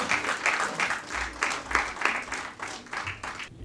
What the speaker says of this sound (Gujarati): ખૂબ તાળીઓના સન્માન સાથે કવિશ્રી મધુસૂદન પટેલ